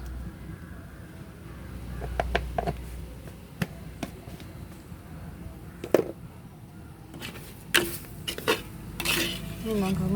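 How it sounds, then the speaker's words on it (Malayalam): A spoon stirring coriander powder into chicken curry in a pan, with close metallic scrapes and clinks against the pan at irregular intervals over a low background hum. "നന്നായിട്ട് ഇളക്കി കൊടുക്കാം"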